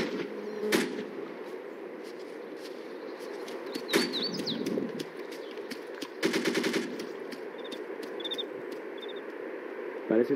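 Gunfire aimed toward a village rings out at a distance: a single sharp crack, another shot a few seconds later, then a rapid automatic burst, all over a steady outdoor background.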